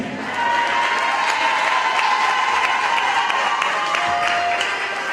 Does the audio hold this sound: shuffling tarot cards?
no